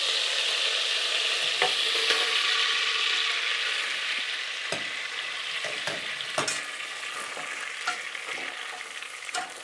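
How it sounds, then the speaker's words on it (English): Sugar melting with butter in a hot pan, a continuous loud sizzle and hiss with a spoon scraping and tapping the pan now and then while stirring, close up and with no talking. "feel the spoon that the sugar is melting down with the butter"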